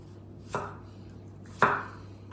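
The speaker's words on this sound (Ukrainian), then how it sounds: "Тож починаємо також мілко нарізати часник." A knife chops garlic cloves finely on a board: two sharp, close strikes about a second apart over a low steady hum.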